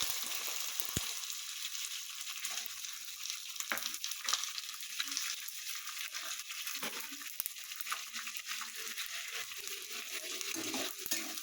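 Onions frying in a pan after mustard seeds, cumin and curry leaves went in, giving a steady, close hiss of sizzling oil with a few faint clicks of stirring throughout.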